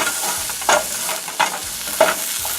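Jalapeno with seeds and onions cook in a pan, a steady close sizzle running under three or four louder scraping stirs that come at roughly even intervals.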